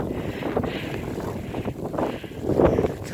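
Blizzard wind roars steadily in a whiteout, buffeting the microphone with broadband rumble and gusts that swell near the end, with no talking.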